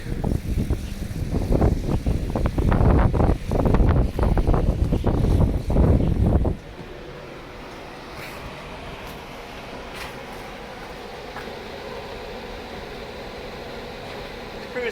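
Strong wind gusting loudly against the microphone for about six seconds with a roaring, buffeting rush, then dropping abruptly to a low, steady background hum.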